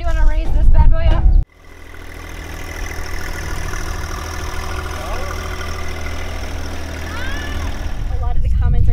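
A tractor engine idles steadily at close range with a low, even rumble, preceded by a brief burst of talk and louder noise at the start, and faint voices near the end.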